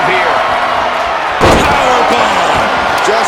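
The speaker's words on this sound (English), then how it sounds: "Powerbomb." A heavy powerbomb slam lands in a WWE 2K wrestling game during an ambulance match, a single loud impact about halfway through over steady crowd noise and commentary.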